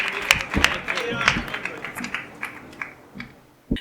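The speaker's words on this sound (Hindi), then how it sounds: "बहुत जोरदार तालियों से भाई।" An audience at a Hindi poetry recitation gives scattered, fading applause for a poet. A few loud bursts of claps come early, then sparse claps taper off, with a final sharp clap near the end.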